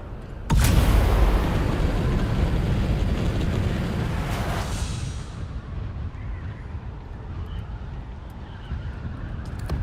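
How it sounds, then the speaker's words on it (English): A distant explosion booms in the desert game Dune Awakening, a sudden loud rumbling blast that rolls on and fades over several seconds into a steady low background roar. "There's an explosion in the distance."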